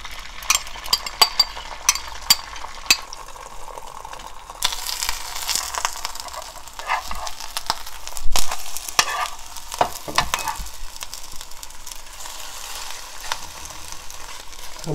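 An egg fries in a little cooking oil in a pan, with steady close sizzling and crackling, a few sharp ticks early on, then a louder, denser spitting hiss, and no voices.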